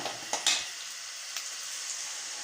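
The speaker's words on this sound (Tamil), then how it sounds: "சேர்த்துட்டு எண்ணெயிலேயே நல்லா ஒரு கிளறி கிளறிக்கலாம்" Ground masala paste sizzles in hot oil over softened onions for a tomato kuzhambu, with a few sharp utensil scrapes early on before the frying settles into a soft, steady hiss.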